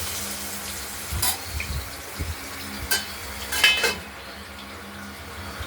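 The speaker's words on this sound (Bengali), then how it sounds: "আলুগুলোকেও ভাজা করে নেব। লাল লাল করে ভাজা করে নেব।" Potatoes frying in a pan, with a steady low sizzle broken by a few sharp scraping and clinking stirs of a utensil against the pan, fairly close and without talk.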